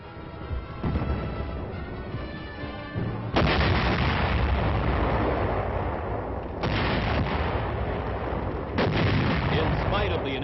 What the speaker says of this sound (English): The Communist lines are strong, and artillery fire is called for to loosen enemy supporting areas.